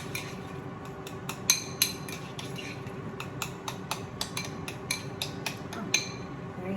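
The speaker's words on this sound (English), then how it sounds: "We're just gonna mix that up." Fresh guacamole being mixed in a bowl: a spoon or fork clinks and taps against the bowl in quick, irregular strokes, close but fairly quiet.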